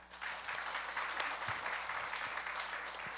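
A church congregation at a Sunday morning service applauds a couple about to marry, steady mid-level clapping filling the room with a faint low hum beneath.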